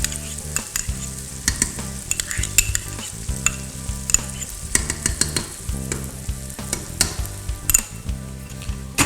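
Tomato paste sizzling and frying in a pot while being stirred, with repeated scraping strokes and clinks of the spoon against metal over a constant hiss, close and fairly loud.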